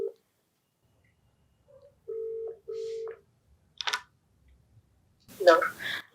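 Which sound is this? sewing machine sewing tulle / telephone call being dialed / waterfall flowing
telephone call being dialed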